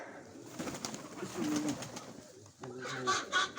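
Nikolaev breed pigeons coo near a dovecote in a village, soft throaty calls rising in a few close bursts, with faint rustling and background noise between them.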